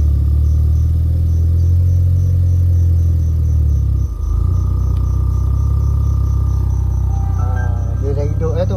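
A Mitsubishi 4G15 turbo engine with Speeduino management runs at a steady idle, a loud continuous low rumble with a brief dip midway and a high, faint whine rising near the end.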